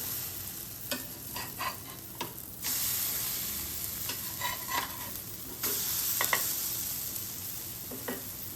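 Besan pudla, a gram-flour pancake, sizzles steadily on a pan after being flipped, with soft scraping and stirring taps from a spatula rising over the continuous frying hiss.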